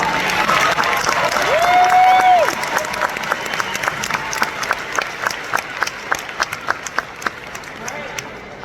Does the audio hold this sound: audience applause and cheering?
yes